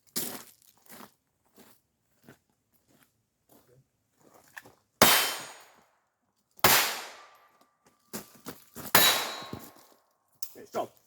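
A .22 pistol with a 10-round magazine fired at a target during ambush self-defense drills, several sharp, loud cracks spaced irregularly over the clip, separated by quiet handling sounds and faint murmurs.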